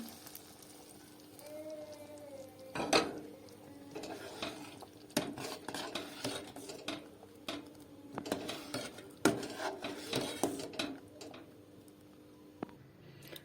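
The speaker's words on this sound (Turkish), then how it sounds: "Naneli köfteli sosumu şimdi çorbama ekliyorum." Mint and meatball sauce going into a pot of barley soup, heard as a close sequence of stirring, clinking utensil and pot sounds with light sizzle beneath.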